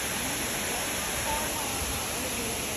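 Small waterfall at a lagoon in Fortaleza, in Brazil's Northeast, a constant broadband rush of falling water heard close and steady throughout.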